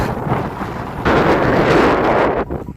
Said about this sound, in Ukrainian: Вітер такий сьогодні.